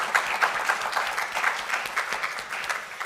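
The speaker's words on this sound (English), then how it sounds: "So let's give them a round of applause." Audience applause at a campus event, a steady dense patter of many hands clapping throughout, moderately loud and without voices over it.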